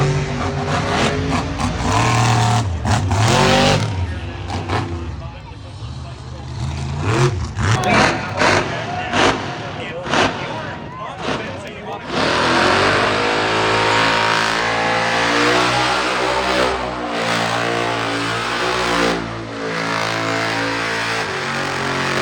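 Race cars run qualifying at a track, with loud engines revving and whining past, rising and falling in pitch, then settling into a sustained roar. No talk is heard.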